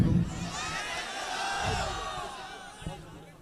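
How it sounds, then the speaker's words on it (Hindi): At a mushaira poetry gathering, a crowd cheers and shouts to welcome a poet to the microphone, a broad roar that is loudest at the start and fades gradually, with a sharp knock near the end. "जनाब इमरान प्रतापगढ़ी माइक पर तालियों की गूंज में इस्तकबाल।"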